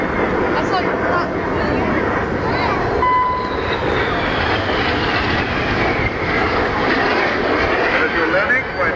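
Red Arrows jets making their final pass at an air display in Bournemouth, a loud, steady roar that fills the whole stretch, with a voice talking over it.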